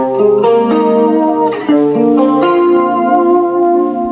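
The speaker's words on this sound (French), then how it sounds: "je vais arrondir ça, par exemple, en mettant un peu de chorus" Godin electric guitar with a chorus effect, playing sustained, shimmering chords and notes that blend smoothly at a steady, fairly loud level, heard alone without voices.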